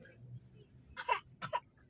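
A person gives two short, soft coughs close by, in quick succession against a quiet, low background.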